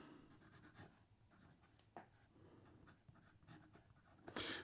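A fountain pen with a medium 18k gold nib writes on paper, giving faint, close scratchy strokes in irregular bursts, with a brief louder rustle at the end.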